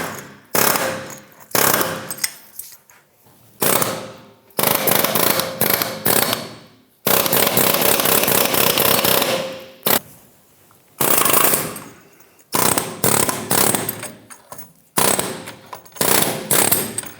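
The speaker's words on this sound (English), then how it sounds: "We're going to use an air chisel and we're going to slowly work this out." An air chisel hammering out a front upper control arm bushing on a 1997-2006 Jeep Wrangler axle, a loud close rattling in repeated bursts of one to three seconds separated by short pauses.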